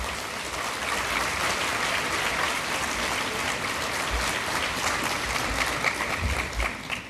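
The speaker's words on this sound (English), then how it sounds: "give all our friends from overseas a really warm round of applause" A conference audience gives a warm round of applause for overseas guests at the ICCS 2025 closing session: dense, sustained clapping from a large hall, even and unbroken, with a few low thumps near the end.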